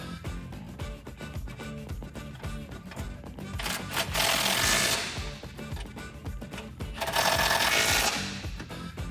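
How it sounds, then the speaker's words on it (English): A 19 mm socket tightens a bull bar mounting bracket on a 2019 Silverado 1500, giving rapid rhythmic ratcheting clicks with two louder, harsher bursts of tool noise, close up. "Now we're gonna tighten down our mounting bracket with a 19 millimeter socket."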